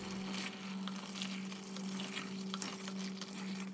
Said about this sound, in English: I'm gonna return the fish back to the pot and stir it.